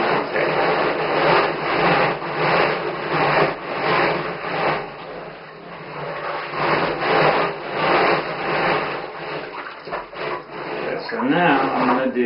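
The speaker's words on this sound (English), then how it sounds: "scrubbing of the feet with this pumice stone, especially around the edges." Pumice stone scrubbed over the edges of bare feet during a foot-care session, making a steady rhythmic rasping rub in repeated strokes, fairly close and continuous throughout, with a voice speaking briefly near the end.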